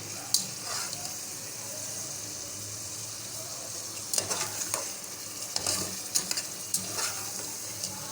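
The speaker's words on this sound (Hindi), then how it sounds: "टमाटर शामिल करने के बाद हम इसको 5 मिनट तक भूनेंगे ताकि टमाटर इसमें अच्छी तरह से सॉफ्ट हो जाए।" Tomatoes fry with potatoes, peas and pulao masala in a pan, giving a steady close sizzle. Several bursts of spoon-stirring scrapes come in the second half, with no talking.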